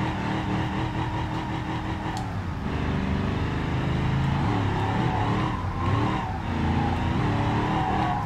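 Car drifting in the BeamNG Drive driving game, with a loud engine and sustained tire squeal and skidding that rise and waver across the run, and no talking.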